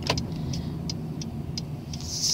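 A car sits stopped at a traffic light with a low, steady engine and road rumble. Faint evenly spaced ticks, like a turn indicator, click over it.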